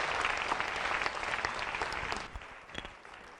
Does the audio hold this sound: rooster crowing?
no